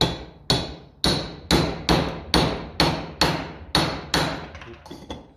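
About ten sharp metal hammer taps on a punch driving a shaft onto a 1954 Ferguson 20 TEF tractor, evenly spaced roughly every half second, close and distinct with short ringing decay.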